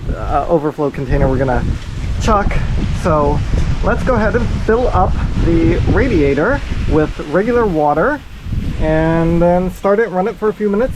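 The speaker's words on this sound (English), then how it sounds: "Sorry about the wind" Someone talks steadily outdoors beside a skid steer while broadband rumbling wind buffets the microphone, with gusts rising and falling beneath his voice throughout.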